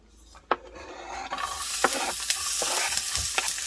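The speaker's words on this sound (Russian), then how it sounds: "Лук обжариваем до золотистого цвета." Onion frying in vegetable oil in a skillet, a steady sizzle swelling after a moment, broken by several sharp scrapes and clinks of stirring, close and alone with no voices.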